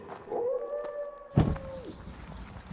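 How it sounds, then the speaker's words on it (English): On the Camino del Norte, a man blows a long, steady hooting note on a jug, broken midway by a heavy stamp of his feet, heard up close. "Big dude stamping his feet and blowing on a jug."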